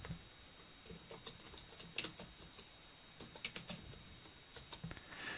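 Rapid, irregular clicks of fingers typing text on a computer keyboard, quiet and close, with short bursts and brief pauses in a still room.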